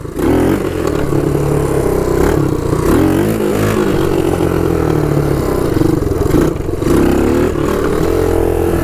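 Kawasaki KLT 250 three-wheeler engine revving loudly up close during a wheelie attempt, a continuous buzzing drone rising and falling in pitch with throttle blips, no talking.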